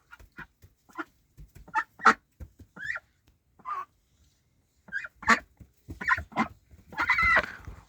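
Pekin and brown Bashkir ducks quack and honk in short, uneven bursts, close and fairly loud, the calls tightening into a thicker cluster at the end with no talk.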